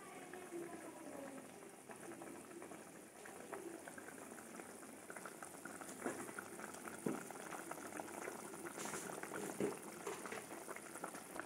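A Kottayam-style sardine chili curry, thickened and reduced, simmers in the pan with a quiet, continuous bubbling and occasional soft pops close by.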